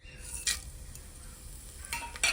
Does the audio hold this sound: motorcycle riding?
no